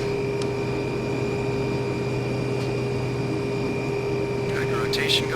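Turboprop engine of a Hawker Siddeley HS 748 spooling up on the port side during a simulated start in FSX, a steady rising whine with a low hum beneath and constant tonal drones, plus brief chirps near the end.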